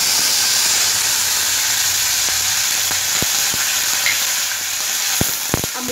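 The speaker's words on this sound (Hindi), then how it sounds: "हमारा तेल अब हीट हो चुका है। अब हम इसमें राई डालते हैं। अब अपने करी पत्ता और लाल मिर्च डाल देंगे।" Mustard seeds, curry leaves and red chillies sizzle steadily in hot oil, a loud continuous hiss close by, with a few sharp pops and crackles near the end and no talk.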